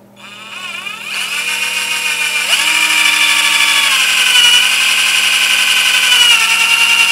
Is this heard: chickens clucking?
no